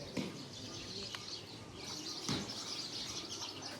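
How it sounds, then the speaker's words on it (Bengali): Birds call around a village home at Eid, with scattered chirps and cooing over a hissy outdoor background and a couple of soft thumps, moderately distant. "এই যে পাখির অভাব নেই এখানে"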